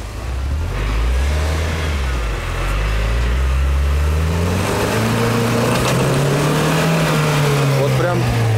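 A UAZ Patriot off-road engine revs hard with its wheels slipping. Its pitch rises and falls in surges as it strains, loud and close, with other noise mixed in.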